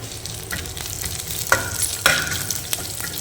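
Onions sautéing in a pan for mixed vegetable sambar, a steady close sizzle with scraping stirs and two sharper clatters of a spoon against the pan.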